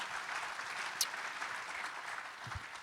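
Audience applause at a Family Research Council summit in Washington, DC, a steady, fairly even wash of clapping throughout with a brief sharp spike near the middle.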